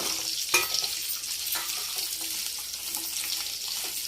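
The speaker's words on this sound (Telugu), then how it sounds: "ఇది వేగిన తర్వాత కొబ్బరి ముక్కలు వేసుకున్నాం" Coconut pieces with green and red chillies fry in a pan for a raw mango coconut chutney, giving a steady close hiss of sizzling oil with a few faint clinks of stirring.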